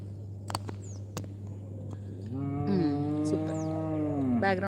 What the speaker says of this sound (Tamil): இதில் ஒரு மாடு வேற மே மேனு கத்திட்டே கிடக்குது